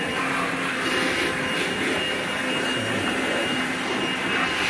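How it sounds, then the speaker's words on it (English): A steady, breathy whoosh of a Ryobi 18 volt Whisper Series cordless leaf blower runs continuously at close range, with a constant airy roar and no voices. "So here's my Ryobi 18 volt Whisper Series blower. You can tell it's not that loud."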